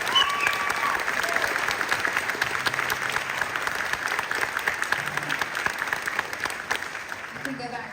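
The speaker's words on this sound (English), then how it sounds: "Let's give them one more round of applause." Sustained applause from an honor band concert audience, steady dense clapping throughout with a few faint voices underneath, ending near the close.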